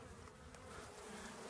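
Honey bees buzz steadily over an opened hive frame holding comb and sealed brood, a dense, continuous close-up hum with no talk over it.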